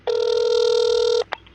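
A single long telephone ring tone on a call being connected to an emergency line, a steady loud electronic tone lasting about a second, followed by a brief faint blip, with no talking.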